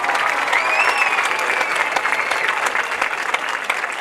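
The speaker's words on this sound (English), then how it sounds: "give the Seymour High School Marching Band a round of applause for the wonderful music" Crowd at a high school football game applauding the Seymour High School Marching Band, steady broad applause with a faint whistle over it, sustained loud throughout.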